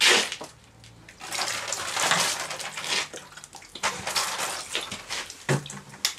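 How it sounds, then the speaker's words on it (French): Water splashes and runs over hands being rinsed during lime putty making, in irregular bursts of close, sloshing noise with brief quieter pauses and a few clattering touches. "Après, de la flotte. Je me rince un peu les paluches."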